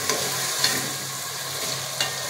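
Masala frying in a pan for a chicken tandoori gravy: a dense, steady sizzle with a few light spoon scrapes and taps breaking through.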